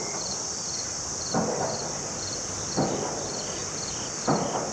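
Crickets chirp steadily along a rail trail, a continuous high trilling bed heard while cycling, broken by a few soft thumps roughly every second and a half.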